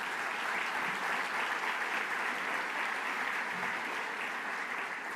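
A conference plenary audience applauds a congressman, with steady, sustained clapping from a large crowd filling the room and no talk over it.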